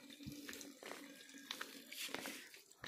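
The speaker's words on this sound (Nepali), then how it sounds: "पानी गएको छ दादा बन्द गर् त धारो" Water runs from a household tap, splashing and gurgling unevenly at close range with a few louder spurts, fairly quiet overall and with no talk over it.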